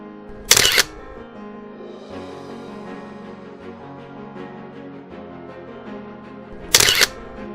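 Two crisp camera shutter bursts about six seconds apart mark autumn nature photography at Yedigöller National Park. Soft sustained background tones fill the gap between the clicks.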